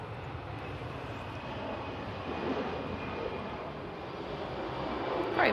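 Airbus A320 airliner engines at Manchester Airport, a broad, steady roar heard from some distance, rising slightly in loudness toward the end.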